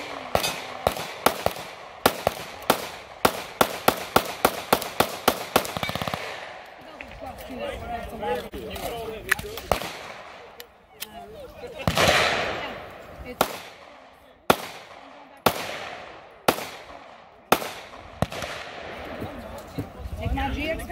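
Shots from a Taurus GX4XL 9mm pistol at an outdoor range crack sharply: a rapid string of about fifteen at first, then slower spaced single shots, loud and close, with people talking between them.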